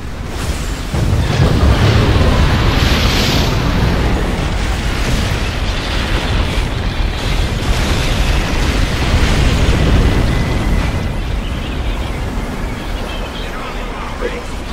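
Heavy MAC cannon fire in the Halo Wars strategy game, a loud continuous rumbling barrage of booms and blasts sustained throughout, thick low-end roar with no clear gaps.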